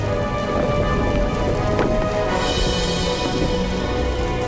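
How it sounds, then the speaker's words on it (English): A documentary sound effect of a burning hail of superheated rocks showering down, heard as a dense, steady rain-like hiss and patter with faint rumbling beneath, loud and continuous throughout. "Superheated rocks shower the valley in a burning hail."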